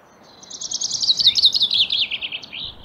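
Marsh tit and Eurasian nuthatch calling in spring, a rapid string of high chirping notes running steadily for about two seconds over a soft, noisy outdoor background.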